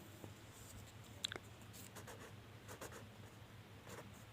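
Pen scratching on paper during a Class 10 maths lesson, faint irregular strokes and small taps over a low steady background hum, no voices.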